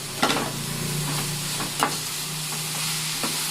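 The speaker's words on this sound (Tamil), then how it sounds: "வெங்காயம் இந்த அளவுக்கு வதங்கினதும் கேரட் போட்டுக்கலாம்." Onion and carrot sautéing in a pan for carrot puttu, a quiet steady sizzle broken by a few sharp scrapes and taps of the stirring spoon.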